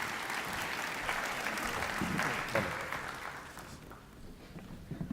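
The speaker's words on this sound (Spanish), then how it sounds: "Lo recibimos con un fuerte aplauso" Audience at an academic conference talk gives steady, moderately close applause that holds for several seconds and then thins out toward the end.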